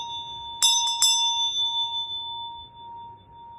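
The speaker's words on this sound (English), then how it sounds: "Copper bells made out of copper" A copper bell struck three times in quick succession, bright ringing strikes followed by a long, pure sustained tone that slowly fades in a quiet room.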